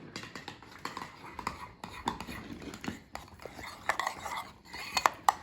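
Scrambled eggs mixed with Parmesan cheese using a utensil in a bowl, light irregular scraping and clinking strokes, close and fairly quiet, with a few sharper taps near the end.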